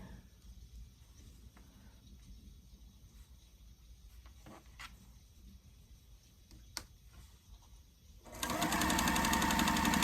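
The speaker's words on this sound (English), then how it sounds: "I don't figure it'll take us long to sew these two up" A sewing machine stitches quilt blocks for a holiday sampler, its fast steady whir running loud and close through the last couple of seconds after a quieter stretch of faint room noise.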